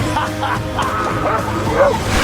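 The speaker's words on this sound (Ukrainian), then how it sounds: "Зупиніть того пса." A dog barks and yips several times amid a busy film-trailer soundtrack, with music and other noise running underneath.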